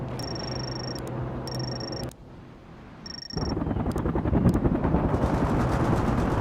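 Heavy automatic gunfire in the real-time strategy game World in Conflict, a rapid close rattle of shots that stops briefly, then returns longer and louder over a droning engine and beeping tones.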